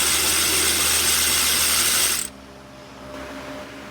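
Ratchet clicking steadily as bolts are loosened on the EGR of a Toyota 20R engine, close and fairly loud, then stopping abruptly partway through, leaving a quiet shop background.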